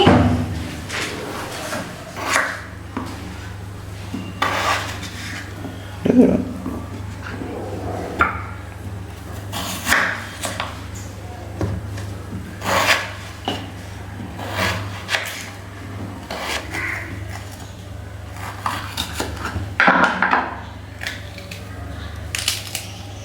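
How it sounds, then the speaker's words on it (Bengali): Potatoes are chopped in a home kitchen, a series of irregular knife thuds and taps on a board spread through the clip, near and moderately loud, with background hum and occasional voices. "এবার আমি আলুগুলো কেটে নিচ্ছি।"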